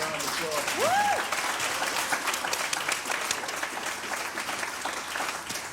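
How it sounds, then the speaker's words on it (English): A town hall audience applauds its panelists with sustained clapping at moderate level, a brief whoop or whistle rising near the start and faint voices mixed in. "So let's give our panelists another round of applause."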